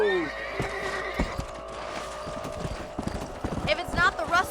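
Hooves clop in a quick, uneven rhythm as horses gallop, with a horse whinnying near the end and a voice speaking over the busy sounds of Red Dead Redemption.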